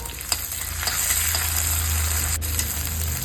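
Spice paste hits a pan of sautéing onions and curry leaves, giving a loud, steady close-up sizzle with a few sharp crackles and stirring sounds throughout.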